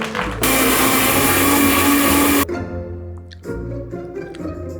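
A kitchen mixer grinder whirs loudly for about two seconds, then cuts off abruptly, leaving clattering and a lower hum afterward.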